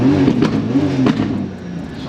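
A turbocharged 600bhp 2JZ engine swapped into a rear-wheel-drive Subaru Impreza rumbles loudly up close through a silenced exhaust, its note rising and falling in a couple of quick revs.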